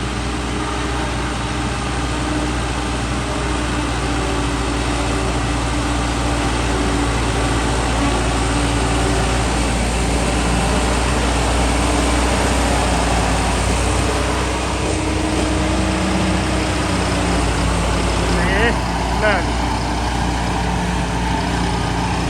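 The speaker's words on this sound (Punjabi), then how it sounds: "ਇਹ ਟਰੈਕਟਰ ਆ ਨਾ ਵੱਡਾ ਕਰਕੇ ਆਰਾਮਦਾਰ ਨਾਲ ਲਈ ਜਾਂਦਾ ਟਰਾਲੀ" A large tractor's diesel engine pulling a trolley drones loudly and continuously at close range, a deep low rumble that holds constant throughout with little change.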